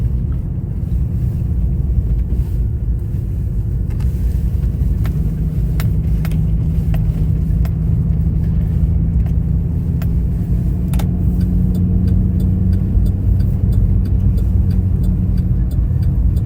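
A car driving through a snowy, icy town in remote Alaska, its engine and tyre noise a loud, constant low rumble heard from inside, with occasional faint ticks and clicks over it and no talking.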